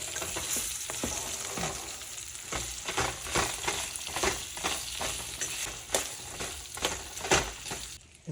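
Potatoes and okra fry in hot oil in a pan, a dense steady sizzle broken by regular scraping stirs, close and continuous with no talking.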